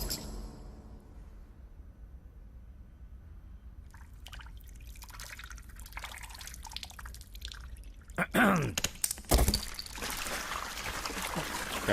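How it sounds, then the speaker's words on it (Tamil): Water poured over a person's head, starting quiet and building into dripping and splashing trickles, with a louder burst of pouring and splattering near the end. "ஏண்டா தலையில தண்ணி எடுத்து ஊத்திக்கிறான்?"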